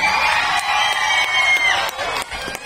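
A crowd cheers, whoops and applauds loudly in a vote by applause for AC/DC at an event at Cultus Lake, Chilliwack, British Columbia, a dense roar that holds steady before thinning slightly near the end.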